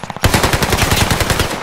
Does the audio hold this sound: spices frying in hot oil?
no